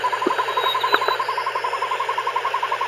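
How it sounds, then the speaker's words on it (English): A northern hawk owl gives a long, rapid trilling call of evenly spaced, fast repeated notes, steady and continuous at moderate volume, with a couple of faint clicks and a low background hum. "Northern hawk owl."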